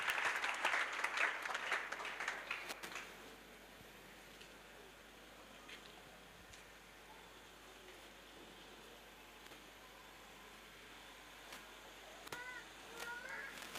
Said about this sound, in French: And please clap louder, even if it's one thing.